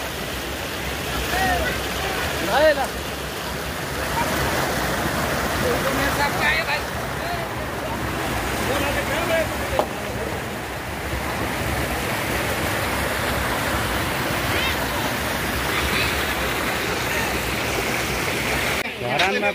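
A stream whose water is being brought to Dharan rushes in a steady, dense wash that lasts the whole time, with voices blending into the flow.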